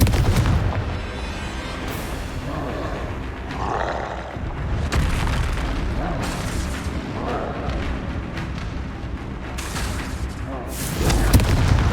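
Blasting-spell explosions from the Hogwarts Legacy video game, a run of loud booming bursts over a dense rumbling game soundscape, with a sharp blast near the end.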